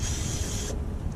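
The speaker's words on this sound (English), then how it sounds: "Get you some WD-40 and spray on those." WD-40 sprays from an aerosol can in a single steady hiss of under a second, close and fairly quiet, while a 2001 Cadillac DeVille radiator is being replaced.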